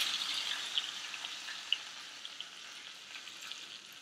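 Curry leaves fry in hot ghee in a nonstick pan, giving a continuous soft sizzle with scattered small pops and crackles that slowly fade, and no talk.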